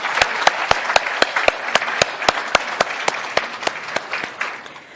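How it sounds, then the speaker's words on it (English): A crowd at a school merit ceremony claps steadily, with sharp rhythmic hand claps standing out over a dense background of applause that continues throughout. "Can I also ask you that we give a special round of applause to Emma for joining us today?"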